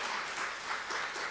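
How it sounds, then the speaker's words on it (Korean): A church congregation applauds during a Sunday worship service, an even, moderate patter of many hands clapping with no pause. "네, 박수해 주세요."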